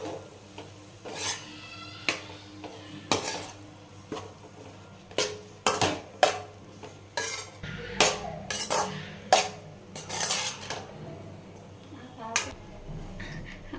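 Rice being mixed into tomato rice in a cooking pot, giving repeated scraping and clinking of a utensil against metal in irregular bursts, moderately close, over a low steady background hum.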